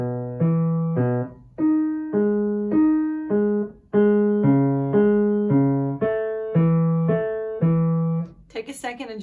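Piano playing a melody, a steady sequence of sustained chords with higher notes over lower bass tones, close and clear, ending in a brief noisy burst.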